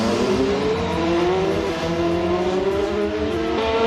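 A sim racing game's race car engine drones steadily at high revs, loud and continuous throughout with a slight pitch wobble.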